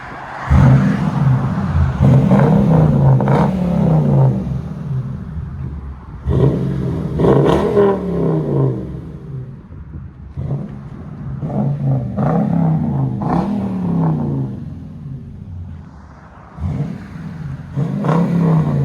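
A 2015 Toyota Tundra Platinum's 5.7L V8 with a Flowmaster 40 Series exhaust revs loudly in repeated deep surges, rising and falling over several throttle blips with no talking.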